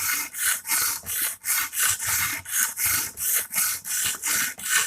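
A chisel-ground Emerson Karambit Tanto knife blade is drawn across a sharpening stone in a steady back-and-forth rhythm, about a dozen close, even, raspy grinding strokes in quick succession.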